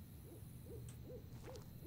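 Owl hooting in the horror game Misery Mansion, four soft two-note hoots repeating at a steady pace over a low, dark ambient hum, fairly faint and alone.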